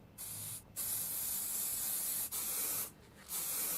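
An aerosol can of car primer hisses in several sustained bursts with brief pauses between them, close and steady, applying light coats to a model flamethrower kit.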